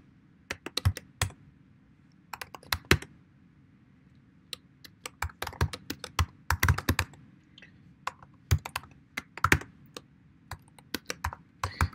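Swift code is typed on a computer keyboard in quick, uneven bursts of crisp key clicks with short pauses between, close and clear with no talking.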